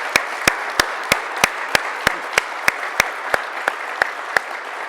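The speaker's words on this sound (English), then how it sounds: "So let's give Allan a round of applause for being here." A seated audience gives a steady round of applause for a guest at an Amazon fireside chat, dense clapping sustained evenly throughout with sharp regular clicks punctuating it.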